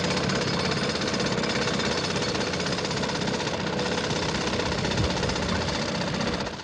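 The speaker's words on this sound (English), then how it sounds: "With the first bite of the pneumatic drills, the TV cameras were rolling." Pneumatic drills breaking ground at Oxford Circus, London, in a loud, continuous rapid hammering rattle with heavy engine rumble underneath, relentless and close throughout before easing slightly at the end.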